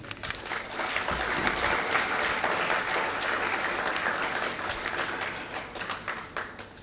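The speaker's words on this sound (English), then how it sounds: "let us all give a very big applause to Dr." Enthusiastic audience applause fills a hall at an MBA cohort inauguration ceremony, a dense sustained clapping that swells early and slowly thins toward the end.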